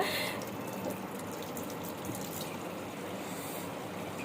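Steady running water splashes and gushes for several seconds, close by, as a cat's tail is washed, with no voices.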